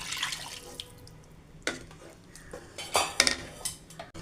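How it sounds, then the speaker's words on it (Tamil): Tamarind water poured into a pan of onions for onion thokku, brief splashing liquid bursts with clinks of utensils against the pan, close and moderately loud. "இதோட ஒரு நெல்லிக்காய் அளவு புளியை கரைச்சி வச்சுருக்கேன், அதையும் சேர்த்துக்கலாம்."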